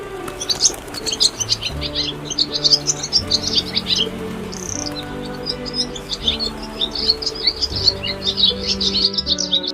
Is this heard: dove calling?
yes